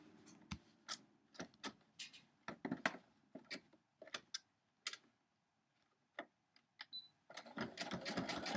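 A sewing machine stitches a quilt block with an overly long stitch length, running in short stop-start bursts of ticking needle strokes before settling into a steadier continuous run at the end, close and quiet.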